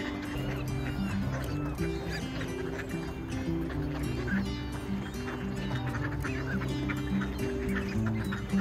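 A busy flock of mixed ducks at Esquimalt Lagoon, honking and quacking steadily and close by for the whole stretch, with no talk over the calls.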